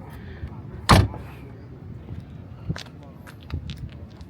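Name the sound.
Maserati MC20 forged carbon doors opening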